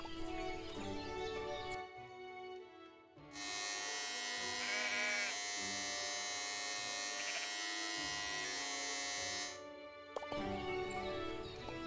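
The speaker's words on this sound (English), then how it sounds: "we'll try these new clippers" Electric clippers shearing wool from sheep in the farming game Everdream Valley give a steady, loud buzzing drone lasting several seconds, with soft bleats and light game sounds before and after.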